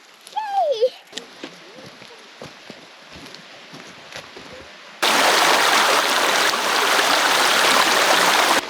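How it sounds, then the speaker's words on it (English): Creek water rushes steadily at an Alaska moose-hunting campsite, faint at first under a voice and light movement, then suddenly loud and close as the stream's broad roar takes over for the remaining seconds. "Let's go check out the creek, Lena."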